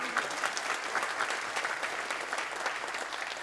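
Sustained applause from a sizable audience at a Korean church general assembly lecture event, steady and moderately loud with many overlapping claps.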